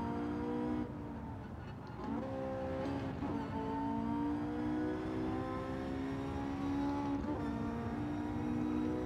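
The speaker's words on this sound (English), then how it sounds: "Just listen to the power cutting in and out as we hit the throttle." A Porsche 918 Spyder hybrid hypercar racing in Gran Turismo 7, its engine droning at high revs with the power audibly surging and dropping as the throttle cuts in and out, loud and continuous with no talk.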